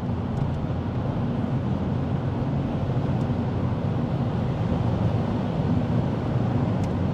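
A 2006 Opel Vectra 3.0 CDTI V6 diesel accelerates hard in sixth gear at highway speed, a steady loud engine drone blended with road and wind roar heard from inside the cabin.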